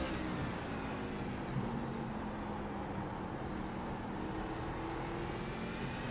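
A truck engine in the iRacing fixed truck series at Martinsville drones steadily and continuously, a broad constant roar with no gaps.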